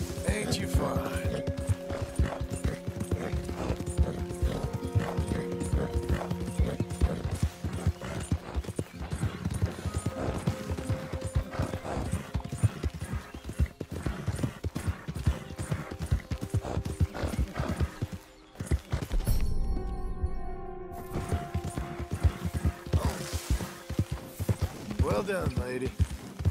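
Horse hooves clip-clop steadily in Red Dead Redemption 2, a continuous rhythmic trot with occasional whinnies, game music and a voice speaking over it.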